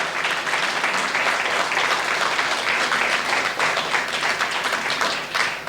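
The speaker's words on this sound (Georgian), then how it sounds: "მოდით ტაში დავაჯილდოვოთ ლიმპოპოელები და მათი ხელმძღვანელები." A hall audience at a centenary memorial evening for Gogi Tsabadze in Batumi applauds the Limpopo ensemble with a continuous wash of even, steady clapping that holds at a constant level throughout.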